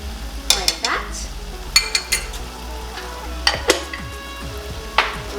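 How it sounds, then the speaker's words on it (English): Boiling sour cherries with sugar are stirred in a pot, with a spoon scraping and clinking against the metal in irregular strokes over a soft simmering bubble. "we're going to give this a nice stir again"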